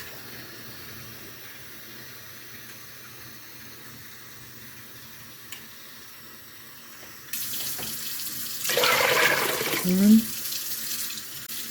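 Tap water gushes into a container to measure out three quarts of brine for homemade dill pickles, a steady broadband rush that swells midway and continues to the end, with a brief word spoken over it.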